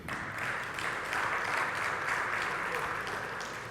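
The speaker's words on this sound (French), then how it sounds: "Des applaudissements pour lui" Applause for a startup presenter at an innovation event, a steady even clatter of many hands filling the room for a few seconds without speech over it.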